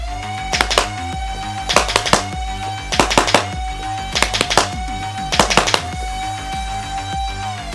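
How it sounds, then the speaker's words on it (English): A Dart Zone MAX Omnia PRO Gen 1 dart blaster fires in bursts at a center target: four quick clusters of about three sharp, loud snaps each, spaced roughly a second apart, over a steady tonal hum. "here's a little bit of burst fire with our center target"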